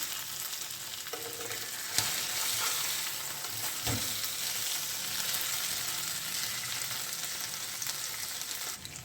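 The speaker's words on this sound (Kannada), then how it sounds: "ಇನ್ನೊಂದು ಸರ್ತಿ ಈ ಕಡೆ ಸ್ವಲ್ಪ ಫ್ರೈ ಮಾಡ್ಕೊಳ್ಳೋಣ" Pieces of Goan chicken cafreal in green masala frying in a pan: a continuous close sizzle with occasional stirring knocks and scrapes, steady throughout with no voices.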